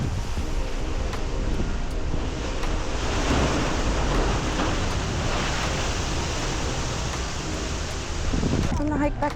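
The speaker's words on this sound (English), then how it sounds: "you gotta look out for waves." Ocean surf rolls onto a shore in steady, broadband wash while wind buffets the microphone, loud and continuous throughout with a brief clatter near the end.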